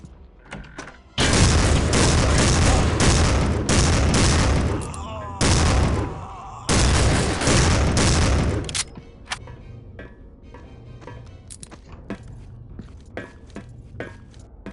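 Gunfire in the shooter Soldier of Fortune II: a sustained, loud burst of rapid automatic fire roughly seven seconds long, broken by brief gaps, then sparse clicks and quieter game sounds.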